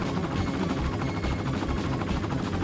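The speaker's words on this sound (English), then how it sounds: "Oh, a helicopter, what the hell?" Helicopter in the Sega Saturn game Three Dirty Dwarves gives a dense, steady whirring roar with a rattling, gunfire-like texture, loud and continuous throughout.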